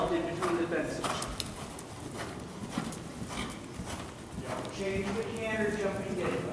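Horse cantering between jumps in a show-jumping grid at a riding clinic, hooves thudding in a steady rhythm at a moderate distance, heard under ongoing talk from an instructor.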